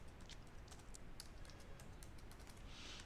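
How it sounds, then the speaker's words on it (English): Rapid, faint taps on a computer keyboard as an admin password is entered on a PC, an even run of light clicks over a soft background hiss. "I'm going to type the password for the admin"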